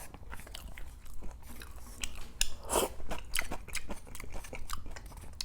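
Crunchy fried Korean sweet and sour pork being chewed up close, a steady run of loud crisp crunches and bites with no talking.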